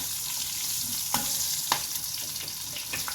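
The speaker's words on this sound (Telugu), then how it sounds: "పచ్చిమిరపకాయలు కూడా ఈ వేడికి వేగుతాయి" Green chillies and ajwain frying in a hot pan after the stove is switched off, a steady close sizzle with a few sharp crackles and pops scattered through it.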